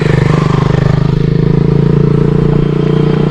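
A motorcycle engine idles loudly and close by, a steady rumbling chug throughout with no voices.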